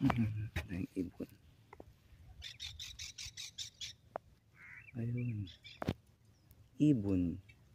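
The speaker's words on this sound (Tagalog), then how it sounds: "Mga ibon na nandadagit ng isda." Fish-hunting birds calling near water, harsh repeated squawks and rapid chattering calls at moderate distance, interrupted by someone speaking briefly.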